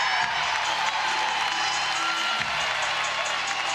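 Arena crowd at a women's college volleyball match, Kansas versus Penn State, cheering and applauding in a steady, dense roar of claps and shouts that holds throughout.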